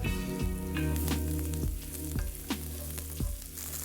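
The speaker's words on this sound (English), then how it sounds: "We're going to go in with the mushrooms now. Let's try and get those to caramelise a little bit" Mushrooms sizzle steadily in a hot pan for a vegan Asian ramen, and a utensil stirring against the pan adds periodic scraping knocks. The frying is close and continuous, with no talking.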